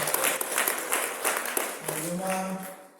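Applause from guests at a Rwandan wedding ceremony, the gusaba and gukwa bride-asking rite, rising as a broad continuous clapping wash that fades toward the end, with a voice and tonal sound entering partway through.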